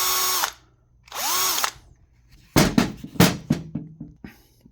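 A power drill with a screw and nuts mounted in its chuck spins up in two short whirring bursts, then gives a series of quick stuttering pulses, close and loud with no talk.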